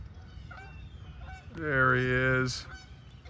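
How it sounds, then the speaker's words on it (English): A single goose coming in to land gives one loud, drawn-out honk lasting about a second, heard fairly close after a brief spoken remark, over faint outdoor background noise. "let's see if I can get this goose coming in"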